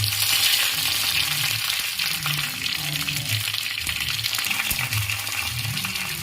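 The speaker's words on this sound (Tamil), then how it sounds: "வரமிளகா போட்டு கருவேப்பிலை போட்டுக்கலாம்" Dried red chillies and curry leaves crackle and sizzle in hot oil for pacha payir satham, a steady, loud, close frying hiss with bursts of spattering and no talking.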